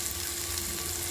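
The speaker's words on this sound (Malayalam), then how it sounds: "ഇതിലേക്ക് നമ്മൾ കറിവേപ്പില ചേർക്കാം." Curry leaves sizzling in hot oil for a drumstick kurma, a brief, faint, steady hiss and crackle heard up close with no voices.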